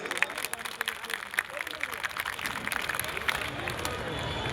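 Audience at a Mahadev ghat temple inauguration in Mau applauding to welcome a visiting minister, steady dense clapping from a crowd with murmured chatter throughout.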